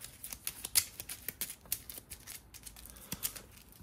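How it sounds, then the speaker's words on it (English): Quick, crisp riffling and flicking of Battlestar Galactica board game cards, a run of soft papery snaps at close range with no talking. "Let's shuffle these up here."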